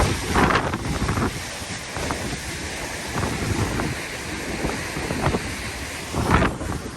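Yosemite Falls roaring during record snow melt, a loud, continuous rushing of falling water heavily buffeted by wind on the microphone, with no talk.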